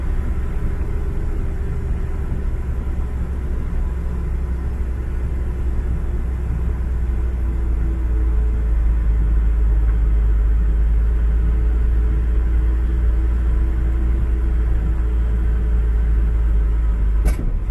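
A 1965 Ford F100 pickup with a 300 straight-six and three-on-the-tree column shifter drones with a steady low engine rumble while driving, heard from inside the cab with no talk.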